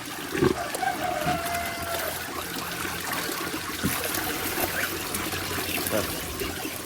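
Water from a fish pond flows and trickles steadily throughout, used to water a mango tree, with a brief splashing burst near the start.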